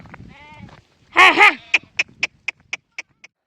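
Sheep bleat in an open field at dusk: one loud, wavering bleat rises over a low rumble, then a run of short, sharp, evenly spaced calls follows nearby.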